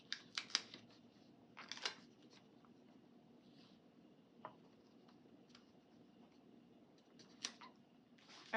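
Quiet, close snips of scissors trimming paper for a planner spread, a few short bursts of cutting separated by soft rustles and pauses.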